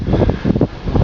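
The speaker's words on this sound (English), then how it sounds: "let's get away from that wind" Outdoor wind buffets the microphone in loud, rumbling low gusts that swell and fade in quick succession, with no speech.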